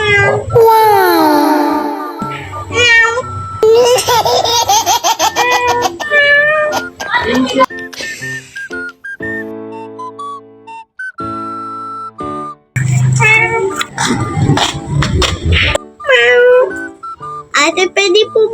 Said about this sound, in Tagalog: Ang cute na pusa naman.